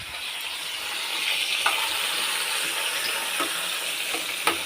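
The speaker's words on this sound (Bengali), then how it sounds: "কাঁকরোলগুলো সব ভাজবো" Spiny gourd (kakrol) pieces fry in hot oil in a home kitchen, giving a steady close sizzle with a few soft clinks and stirring knocks, and no one speaks.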